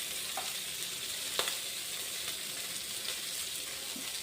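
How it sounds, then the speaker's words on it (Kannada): Sardines fry in oil over a medium flame with an even, moderate sizzle and a few soft pops and clicks, close by and without speech. "ಈಗ ಮೀಡಿಯಮ್ ಫ್ಲೇಮಲ್ಲಿ ಫ್ರೈ ಆಗ್ತಾ ಇರಲಿ."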